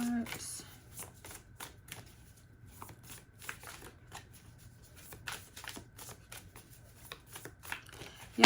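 Oracle cards are shuffled in soft, quick riffling flurries, quiet and close, with someone speaking over the shuffling.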